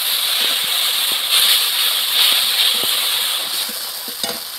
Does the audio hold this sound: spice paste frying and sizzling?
yes